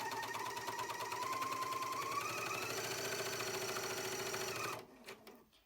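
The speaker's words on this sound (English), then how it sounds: "I'm going to overlock right down those raw edges." An overlocker sews down raw fabric edges on a pillow slip with grey thread, a fast rhythmic chattering whir heard up close and continuous for several seconds before cutting off sharply, followed by light handling clicks.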